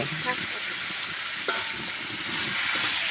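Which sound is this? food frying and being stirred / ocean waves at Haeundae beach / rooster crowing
food frying and being stirred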